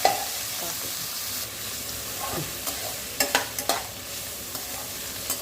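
Bitter gourd sautés in oil over a low flame, a soft steady sizzle with a few scattered scraping clicks of stirring, close and moderately quiet, with no voices.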